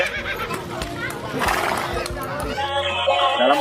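A toy horse whinnies in a child-oriented play scene, a short neigh rising amid toy play, with talking over and around it.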